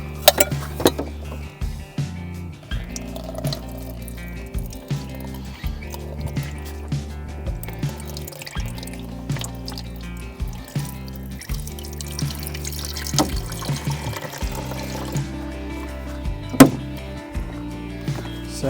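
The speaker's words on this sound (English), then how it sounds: "Just fill her with some water." Water runs and splashes into a container in uneven spurts for a camp stove kettle, with clinks and knocks of handling mixed in, close by and moderately quiet.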